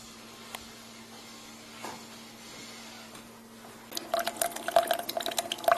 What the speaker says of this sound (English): we'll watch it at least begin to brew